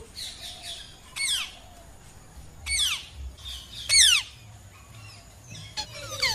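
A voice imitates a parrot with several sharp, shrill squawks, repeated at intervals with pauses between, close and loud.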